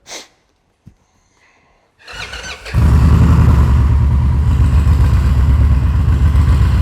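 A motorcycle engine starts: a brief beep and click, then the starter cranks for a moment before the engine catches and settles into a loud, steady idle.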